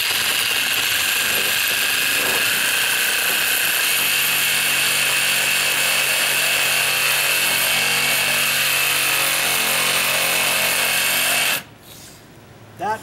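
A battery-powered 18 volt sawzall cuts through a window ledge with a loud, continuous buzzing rasp for about eleven seconds, then stops abruptly.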